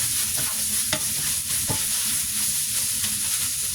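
Young tamarind chili paste stir-fried in a pan, with a steady close sizzle and hiss under scraping, clacking strokes of the spatula against the pan.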